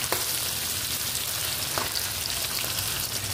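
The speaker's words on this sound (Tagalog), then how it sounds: "Ginisa na natin siya sa sibuyas, bawang, luya." Onion, garlic and ginger sautéing in a pan for Filipino chicken adobo, a steady close sizzle with a few faint stirring clicks.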